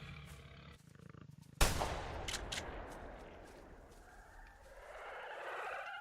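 A single sharp, loud gunshot in theHunter: Primal, with a roaring echo that rings out and slowly fades into rumbling ambient noise.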